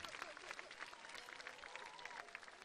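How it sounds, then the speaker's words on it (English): Applause at a Miss Tahiti 2017 gala evening in Tahiti, a steady dense wash of many hands clapping from a large audience, with cheering voices faintly mixed in throughout. "applaudissements"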